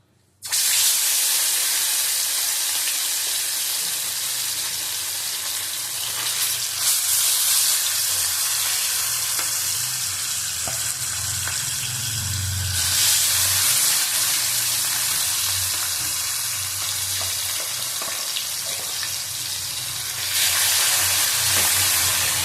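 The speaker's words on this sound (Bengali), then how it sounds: "মাছটা তুলে নেবো, ভাজা হয়ে গেছে" Bhetki fish frying in hot oil in a kadai gives a loud, steady, hissing sizzle that carries on without a break, swelling slightly now and then, with no voices.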